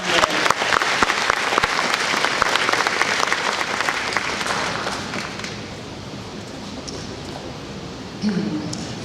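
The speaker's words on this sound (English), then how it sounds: "give him a round of applause." Applause from a luncheon audience at an agricultural awards event, a dense burst of clapping that swells and then thins out over several seconds, with a voice briefly heard near the end.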